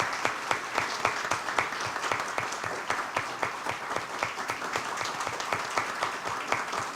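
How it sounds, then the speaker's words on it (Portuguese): A roomful of attendees at a blockchain and tax administration panel debate claps in a dense, sustained round of applause, sharp individual hand claps standing out clearly with almost no talking. "Uma salva de palmas para os 5."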